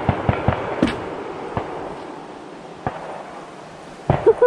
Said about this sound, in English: There's some people shooting down the road and they're going crazy.